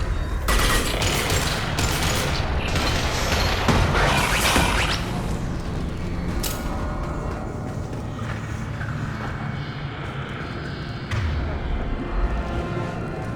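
A hacked turret in the Mass Effect video game fires bursts of rapid gunfire, loud and dense at first with whooshing effects, then thinning to sporadic shots over a lingering rumble.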